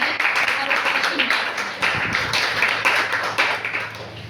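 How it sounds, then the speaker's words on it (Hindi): An audience at a Hindi poetry recital claps loudly on request, an uneven patter of hands with some sharper individual claps and murmuring voices mixed in. "एक बार जोरदार तालियां बजाएं"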